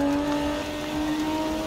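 A car engine hums at steady revs in the racing video game Forza Horizon 4 while driving and overtaking, a constant tonal drone with no voices over it.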